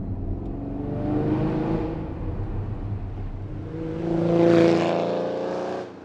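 A loud, powerful Koenig Specials Ferrari Testarossa engine revs and accelerates, its roar building, dipping briefly, then surging again to a peak before easing off.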